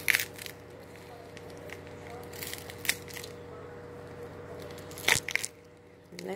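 Soft crackling and crisp snaps as layers of an onion are peeled by hand, a few sharp crunches standing out over a quiet steady background hum, close and fairly faint.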